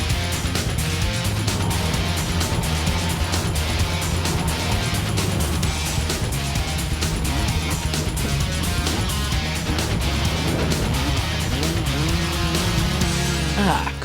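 A KTM 250 two-stroke off-road motorcycle engine revs hard and loud, a raspy buzzing note rising and falling steadily throughout.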